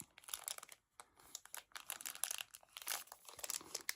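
A Hello Kitty Sweet Tea booster pack wrapper crinkles and crackles as it is handled and torn open, quiet and close, in irregular rustling bursts with brief pauses.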